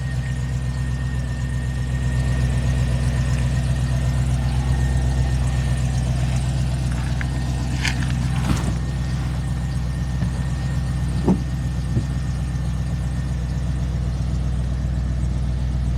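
A Chevrolet SSV ute's 6-litre V8 idles with a steady low, even burble, close and constant, broken by a few faint clicks and a thin squeak.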